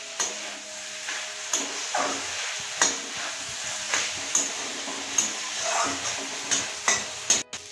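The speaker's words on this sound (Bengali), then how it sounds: "এবার এর মধ্যে দিয়ে দেবো ভেজে রাখা চিংড়ি মাছ। সব কিছুকে আবারও খুব ভালোভাবে মিশিয়ে নেব।" A spoon scrapes and knocks against a pan as fried prawns are stirred into a banana flower curry, about a dozen regular strokes over a soft sizzle, close and clear, with no talking.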